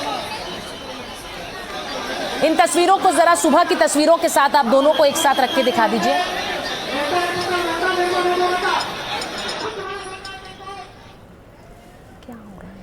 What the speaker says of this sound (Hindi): अजीत पवार को श्रद्धांजलि देने के लिए एक भीड़ उमड़ पड़ी।